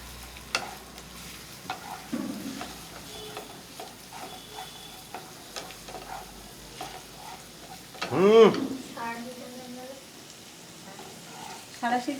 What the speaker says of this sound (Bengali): বন্ধুরা তেলটা আমার গরম হয়ে গেছে। এবার আমি এতে এইখানে কুচি কুচি করে রাখা আদা আর কুচি কুচি করে রসুন এটা দিয়ে দিলাম।